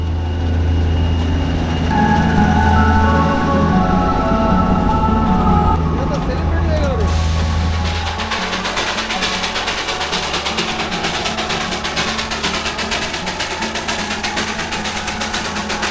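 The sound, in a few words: toy train engine running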